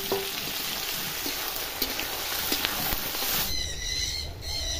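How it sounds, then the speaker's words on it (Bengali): Onions fry in a pan with dried red chillies, whole garam masala and bay leaf for a chicken dum dish, giving a steady, close sizzle with faint stirring scrapes throughout. "পেঁয়াজ ভাজা হয়ে গেছে"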